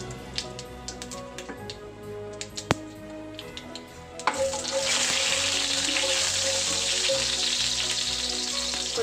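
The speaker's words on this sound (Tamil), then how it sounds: "கடுகு நல்லா பொறிஞ்சியாச்சுங்க. இப்போ வெந்தயம் கொஞ்சம் சேர்த்துக்கலாம்." Mustard seeds and fenugreek sizzling in hot oil for a village-style dried anchovy curry, a steady loud crackling hiss that starts abruptly midway after quieter kitchen clinks, with no talk.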